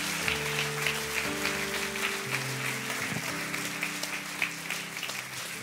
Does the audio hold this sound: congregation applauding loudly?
yes